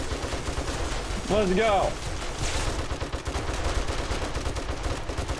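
Rapid gunfire from a player shooting at bombers in the survival game 7 Days to Die, a steady dense crackle running through the whole stretch under game noise, with a short voiced outburst near the start.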